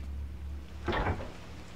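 A door opens slowly in the horror video game Fatal Frame V, a single soft creaking swing with a low thud over a steady low ambient hum.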